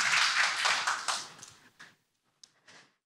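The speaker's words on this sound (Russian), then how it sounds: "Ваши аплодисменты." A brief burst of clapping from a group fades quickly into a few scattered claps.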